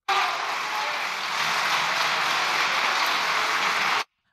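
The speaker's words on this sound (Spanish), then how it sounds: "hay aplausos de la bancada de Popular" Partido Popular deputies applaud from their benches in the Spanish Congress, a dense, even roar of clapping that holds steady and then cuts off abruptly.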